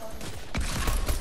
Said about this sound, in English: They're already shooting.